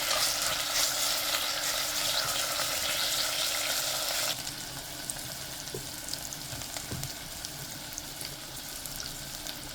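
Drumsticks (moringa pods) fry in a pan and get stirred, giving a steady loud sizzle that drops to a quieter crackle partway through, with occasional scraping stir sounds.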